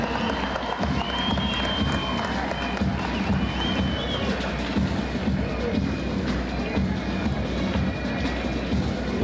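Thunderous applause from a large crowd at a police colour presentation parade in Palzor Stadium, Gangtok, Sikkim: dense, steady clapping and crowd noise filling the whole stretch, loud and continuous with no pauses.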